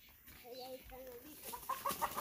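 Chickens cluck and squawk close by in a rural yard, a run of short, uneven calls rising in the second half, with someone talking over the start.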